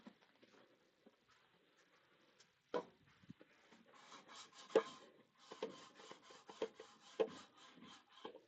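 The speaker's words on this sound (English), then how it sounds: "I get my block sander to sand that edge." A hand block sander rubs along a wooden edge in a woodturning workshop, starting with a few scattered taps and then moving into repeated close, gritty back-and-forth strokes with uneven rhythm.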